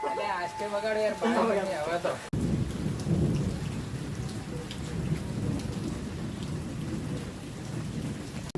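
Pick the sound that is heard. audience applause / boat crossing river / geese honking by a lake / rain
rain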